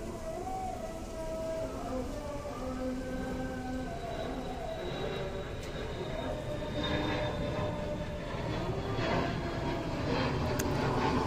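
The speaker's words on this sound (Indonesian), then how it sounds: "Ada suara pesawat." An airplane flies overhead close to an airport, its engine noise a broad, steady roar that fills the whole stretch and stays loud throughout, with faint tonal whines drifting over it.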